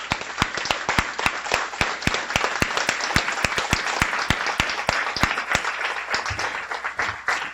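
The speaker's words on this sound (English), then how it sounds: "let's give each and every one of you a huge round of applause." Sustained audience applause fills a guide dog school graduation ceremony, a dense steady wash of many hands clapping with sharp individual claps standing out throughout.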